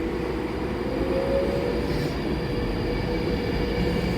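A train at Carlisle station on the West Coast Main Line gives a steady low rumble with a faint brief wheel squeal, heard alone at a moderate distance.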